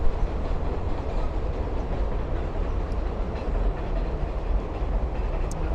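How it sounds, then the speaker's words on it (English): A New York number 7 subway train rumbles steadily out of Queens' Greenpoint Avenue station, its broad low roar and faint rhythmic wheel clatter filling the whole stretch without pause. "See the number 7 train leaving the station."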